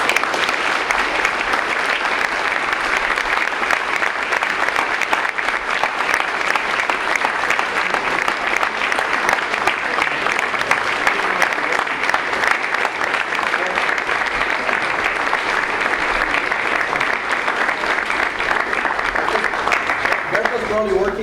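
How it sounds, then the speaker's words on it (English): Steady, dense audience applause fills a building inauguration ceremony in Mission, Texas, honoring the staff, sustained at even loudness without a break. "I want you guys to give them a round of applause"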